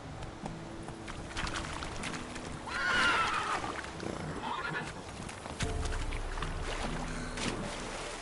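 Roach, the horse in the video game Witcher 3, gives a whinny that rises above steady ambient game sound, with a quieter stretch of movement noise continuing afterward.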